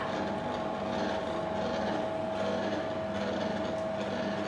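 A Telme GEL 5 machine with water filled to the blade level and its blades spinning, giving a steady, continuous motor drone with a constant hum that stays at the same level throughout.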